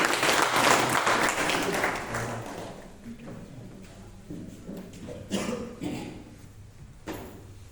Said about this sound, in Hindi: इनके लिए भी जो है जोरदार तालियां होना चाहिए।